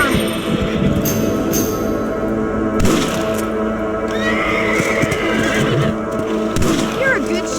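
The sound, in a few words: horse neighing in video game Red Dead Redemption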